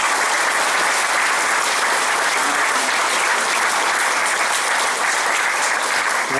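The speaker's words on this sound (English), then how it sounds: "just one final round of applause for all of our recipients." Sustained round of applause from an indoor audience at a zone medal presentation ceremony, steady dense clapping throughout with no voices standing out.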